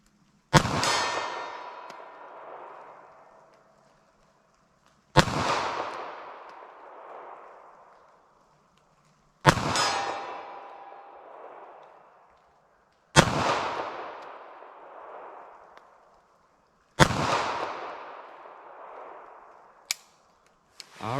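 Fiocchi .32 ACP FMJ rounds fired from a pistol into ballistic gel outdoors, five loud sharp single shots spaced several seconds apart, each followed by a long ringing echo decay.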